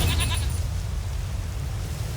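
A short goat bleat near the start in The Witcher 3: Wild Hunt, then a continuous low rumbling background hum with no other clear sounds.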